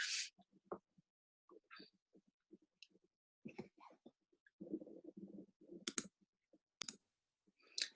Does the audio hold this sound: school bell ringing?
no